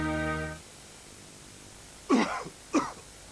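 Two sharp coughs from one person in a Benylin cough medicine TV advert from 1987, each short and close, set apart by a brief pause after a fading tone.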